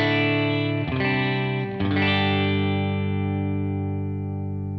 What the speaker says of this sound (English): With all the pedals off, my amp sounds like this.